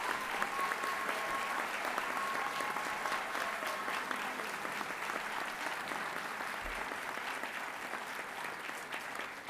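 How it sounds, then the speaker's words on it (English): Sustained audience applause for a graduating class at a Champlain College Saint-Lambert graduation ceremony, a steady wash of many hands clapping throughout. "Ladies and gentlemen, a round of applause for the class of 2026."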